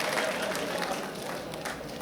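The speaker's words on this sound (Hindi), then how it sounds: "जोरदार तालियों की गड़गड़ाहट के साथ आप आवाज दीजिए अपनी तालियों से" An audience claps at an Indian poetry gathering marking the 75th anniversary of independence, held in Delhi. The clapping is a short, moderate wash with some voices mixed in.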